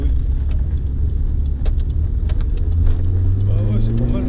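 A car engine idles with a throaty exhaust rumble, then revs up into a rising tone near the end, loud and close, with voices talking over it.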